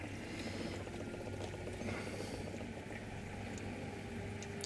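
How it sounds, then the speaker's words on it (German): A DC Runner water change pump runs on a Reefer 250 reef aquarium setup, giving a steady, continuous rushing water hum at moderate level with no talk. "das ist übrigens die Wasserwechselpumpe."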